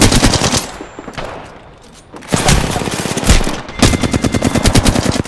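Rapid automatic gunfire from the Apex Legends battle royale game rattles in dense, loud bursts, with a short lull before the firing resumes in fast repeated volleys.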